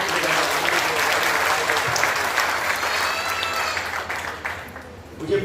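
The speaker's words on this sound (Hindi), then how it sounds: "इनके लिए जोरदार एक बार तालियों से" An audience at a retired teachers' honour ceremony claps loudly and continuously, a dense steady applause that dips briefly near the end, with faint voices mixed in.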